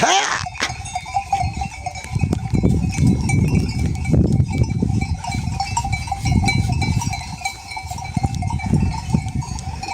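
A flock of sheep let out of the fold on a harsh winter day, bleating repeatedly at close range over a busy bustle of hooves and movement, with a faint steady tone running underneath.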